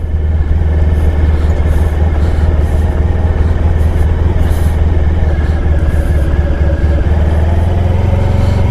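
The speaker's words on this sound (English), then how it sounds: "I'm going just with idle. I'm not giving it gas at all." A 1994 Honda ST1100 motorcycle engine idles steadily while riding, a loud continuous low rumble with road and wind noise throughout and no pauses.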